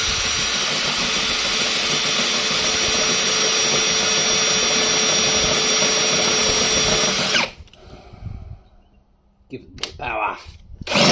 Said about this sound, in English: now I've got the holes drilled